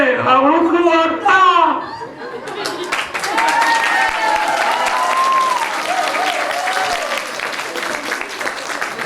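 Audience applause at an Onam skit, a broad steady wash of clapping that follows a short stretch of voices at the start and carries on loudly to the end.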